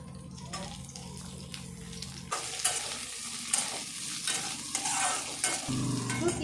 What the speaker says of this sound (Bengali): মাছ ভালো করে ভাজা নিতে হবে